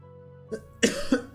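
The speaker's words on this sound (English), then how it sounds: "Humidity makes me cough." A few sharp coughs in quick succession, close and fairly loud, following a quiet moment.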